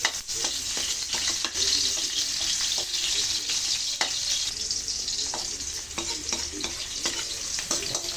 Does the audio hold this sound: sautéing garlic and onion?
yes